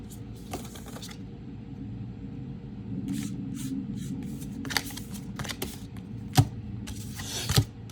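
Playing cards are shuffled and flicked through while searching a deck, making a steady close papery riffle with a few sharper snaps, alone without talk.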